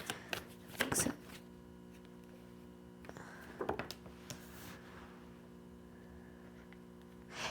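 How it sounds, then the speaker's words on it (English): Tarot cards are shuffled in two short, crisp riffling bursts close by, each lasting about a second, with quiet gaps and a faint steady hum between them. "I feel like I need to keep shuffling."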